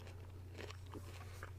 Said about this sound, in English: Going in for another bite.